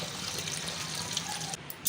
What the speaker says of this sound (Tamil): இப்போ இது எல்லாத்தையும் நம்ம வாஷ் பண்ணிக்கலாம் இந்த மாதிரி நல்லா எல்லா இலையிலையும் எல்லாத்தையும் நல்லா க்ளீன் பண்ணி எடுத்துக்கலாம்